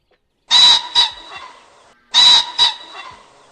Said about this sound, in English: Pheasant.